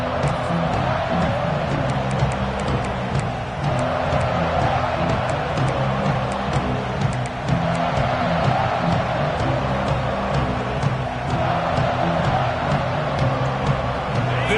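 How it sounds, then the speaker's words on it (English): A packed football stadium crowd at an Auburn game roars in a steady, dense wall of cheering and whooping that holds through the whole stretch, with no clear break. "This crowd ready to make its presence known."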